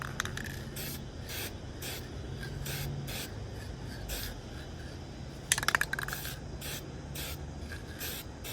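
Adhesion promoter sprayed from an aerosol can onto bare, sanded plastic, heard as a series of short, evenly spaced hissing bursts with one brief clatter partway through, fairly close, with no talk.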